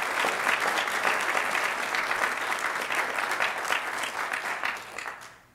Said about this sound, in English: Let's give Faith a round of applause.